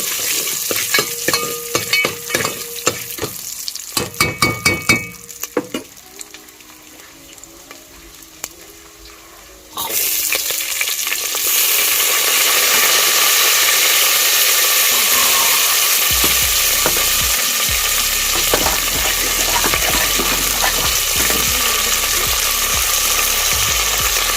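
Mustard seeds, fenugreek and cumin fry in hot oil for dhal sambar, first with scattered pops and crackles, then a sudden loud, steady sizzle that keeps going close up with no talking.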